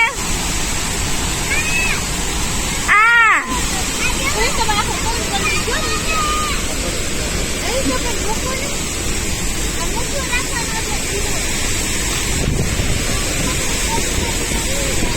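Harvalem waterfall in Goa during rain, a loud, broad, continuous roar of falling water with people chattering over it nearby.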